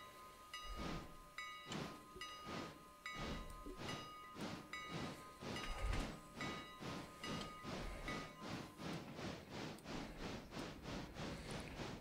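Steam locomotive in the video game Railroader pulling away after the throttle is opened. It gives loud rhythmic chuffs with hissing steam, steady at first and then quickening, with a faint whistle-like ringing tone above.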